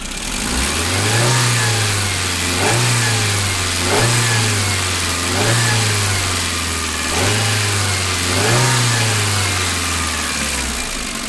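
A Chevrolet Matiz / Spark engine revs repeatedly during a fuel pressure test, about six rises and falls in a steady cycle, loud and close with no talking.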